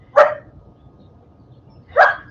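A puppy barks twice, two short separate yaps about two seconds apart, fairly close and clear over a quiet low background hum.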